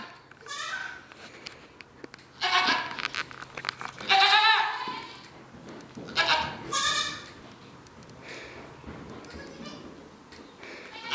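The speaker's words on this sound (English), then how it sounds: "Still got a bunch of goats mad at me because I haven't fed them all yet" Several goats bleat in bursts, loud and fairly close, with pauses of quieter farmyard background between the calls.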